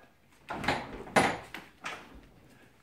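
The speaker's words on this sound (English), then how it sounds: "open the door." A door opens in a quiet room, heard as a series of soft thumps and rattles with faint clatter between them and no talking.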